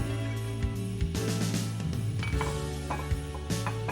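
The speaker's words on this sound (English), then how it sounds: "So give it a quick mix in the beginning and then start to fold through" Mascarpone cheese being mixed in a bowl with a utensil, steady close scraping and stirring with occasional light clinks against the bowl, played over a continuous background tone.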